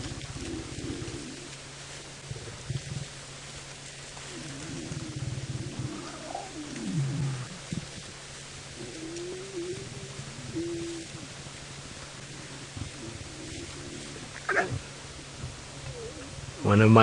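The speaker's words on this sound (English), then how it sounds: "One of my favorite sounds in the bush is little lion cubs begging for milk" Little lion cubs of the Styx Pride in the African bush beg for milk with soft, wavering mewing calls that come and go over a steady low hum, with a louder burst near the end.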